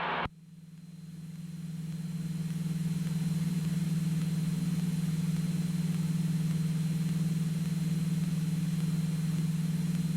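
A small airplane engine holds around 1,500 RPM during slow-flight and stall practice, a steady, even cabin drone with a low hum that continues unbroken and alone after a brief click at the start.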